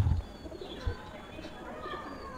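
Pet pigeons kept by a fancier coo softly up close, a few low murmuring calls over quiet background with a couple of soft thumps.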